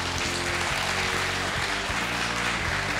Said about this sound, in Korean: 여러분 큰 박수 한번 보내주시기 바랍니다